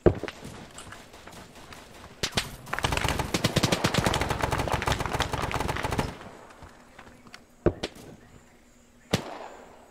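Automatic gunfire rattles in a fast, dense burst for a few seconds during an ARMA 3 firefight, with scattered single shots before and after, some sharp and close, others more distant, and no talk.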